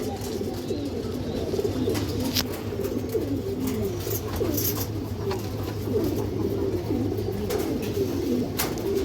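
Large female Bagha pigeon with red eyes and maroon-coloured legs, cooing in soft repeated throaty phrases amid a busy background hum of other birds and faint clicks, fairly close, no clear speech.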